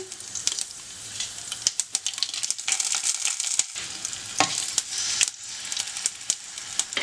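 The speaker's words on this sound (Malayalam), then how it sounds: "അപ്പോൾ നെയ്യ് ചൂടായിട്ടുണ്ട്. അതിലേക്ക് ഞാനൊരു 3/4 ടീസ്പൂൺ കടുക് ഇട്ട് കൊടുക്കുകയാണ്. ഒരു 4 ഉണക്കമുളക് കൂടെ ഇട്ട് കൊടുക്കുകയാണ്." Mustard seeds and four dried red chillies frying in hot ghee, a close crackling sizzle with sharp irregular pops and spatters as the seeds burst, steady throughout with no talking.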